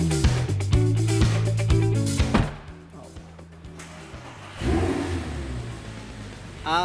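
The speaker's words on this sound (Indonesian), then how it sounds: "Kita langsung dengerin nih suara V10-nya dari Audi ini." A 5.2-litre, ten-cylinder Audi R8 V10 revs close by, rising to a loud blare. The engine then drops back to a rough idle before another sharp burst of throttle.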